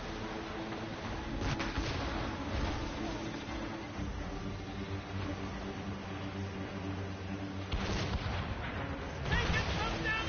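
Ship cannons in Assassin's Creed Rogue fire in repeated heavy booms over a constant rumble of sea and battle, with shouted voices between the blasts.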